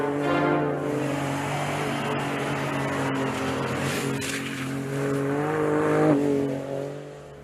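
A 2017 Ford F-150 Raptor truck drifting on an off-road test course, its engine droning and revving hard and close with rising and falling pitch, and faint tire scrubbing, with no one talking.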